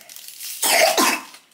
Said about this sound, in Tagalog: Ubo na naman siya